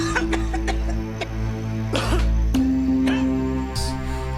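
Several coughs from the film Saw II break out in bursts, some harsh and close, over a steady tonal background hum.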